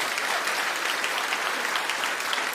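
A studio audience claps in a dense, steady burst of applause that holds at an even level throughout, with no talk over it.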